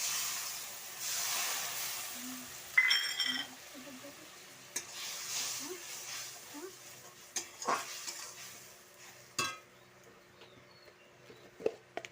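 Onion and tomato fry in a pan as mustard paste is stirred in, with a soft sizzle under scattered clinks and scrapes of a spoon against metal, fairly quiet and close.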